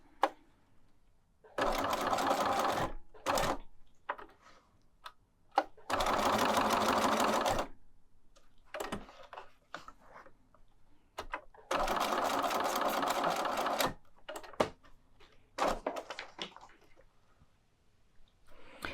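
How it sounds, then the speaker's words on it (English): A sewing machine stitches around the end of a fabric bag handle where it overlaps a banner, running in several sustained loud bursts of a few seconds each, separated by short pauses and small handling clicks. "To sew on the handle, I'm just going to sew around the end of the handle where it overlaps the banner."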